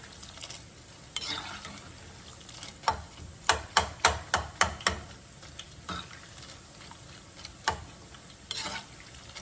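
Boondi batter fries in hot oil with a low sizzle, punctuated by a quick run of sharp metallic taps, likely a ladle knocking on the pan rim, and scattered clinks.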